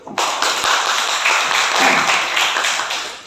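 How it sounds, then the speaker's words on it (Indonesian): A classroom audience applauds during a mathematics lesson: a steady burst of clapping lasting about three seconds, dense and fairly close, then tapering off at the end. "Oke, beri aplaus dulu."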